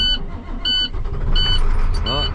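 A used snow plow truck engine starting up, its rough mid-range rumble turning over and catching amid clattering, with a voice talking over it close by.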